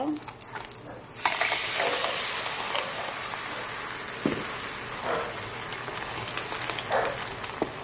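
Clams with malunggay frying in a pan give a loud, steady hiss that flares up after a second and keeps sizzling, with occasional stirring scrapes and crackles.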